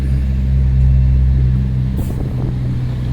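City bus number 84 drives past on a street, a loud low engine rumble close by that stays steady with a brief higher clatter midway.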